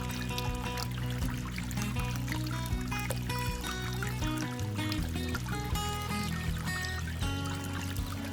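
Water pours and trickles steadily through a gold prospecting sluice fed by a speed-controlled pump, a continuous wash of flow over a droning tonal hum.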